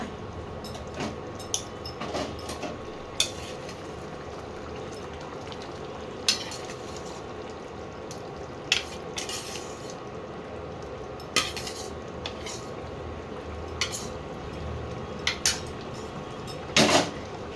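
Pointed gourd pieces are tipped into a pan of potatoes boiling for a Bengali potol dum and stirred in, giving repeated utensil clinks and scrapes against the pan over a steady bubbling, hissing simmer, with no talk.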